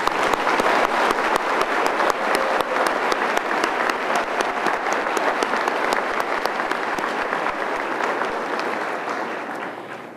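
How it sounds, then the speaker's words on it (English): Commencement audience at Allegany College of Maryland's 50th afternoon ceremony applauding the graduates: dense, sustained clapping from a large crowd that gradually fades toward the end. "Please join me in a warm round of applause in celebration of our students."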